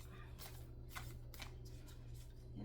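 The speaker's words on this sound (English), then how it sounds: "you're going to watch me shuffle anyway" Tarot cards are shuffled in several quick riffling bursts, close and crisp, over a low steady hum.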